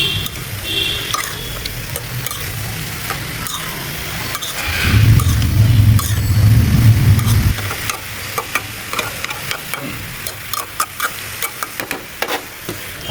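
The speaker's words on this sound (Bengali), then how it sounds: "তো আবার আমি একটু লাড়া দেবো।" A spoon stirs white cauliflower bhaji as it fries in a pan, with a steady sizzle, a louder burst of scraping and frying in the middle, then scattered clinks and taps, close and without talk.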